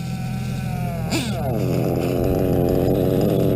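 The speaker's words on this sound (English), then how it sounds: "See if she idles long enough for me to put the body on." A small engine idling with a steady buzzing drone that rises in pitch and settles into a busy, rattling rhythm, loud and close, with a brief clunk near the start.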